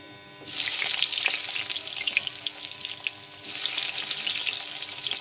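Chopped onion hitting hot mustard oil in a kadai with garam masala, a loud sudden hiss that settles into a steady crackling sizzle, then surges again near the end.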